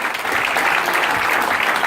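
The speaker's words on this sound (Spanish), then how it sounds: "Den ese aplauso fuerte al Señor esta noche, hermano." Loud, dense clapping from a Spanish-speaking church congregation at a night vigil, a short, unbroken burst heard up close.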